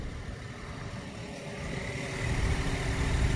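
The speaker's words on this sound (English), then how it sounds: "it sounds like your power steering pump is making a lot of noise" Car engine running steadily with a noisy power steering pump, a continuous mid-low mechanical drone that grows slightly louder toward the end, heard close with no talk.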